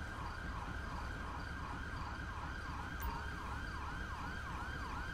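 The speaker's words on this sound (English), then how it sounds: "We have another ambulance on its way." An ambulance siren wails in the video game GTA V, a regular rising-and-falling electronic tone repeating about twice a second over a low engine rumble, fairly faint and steady.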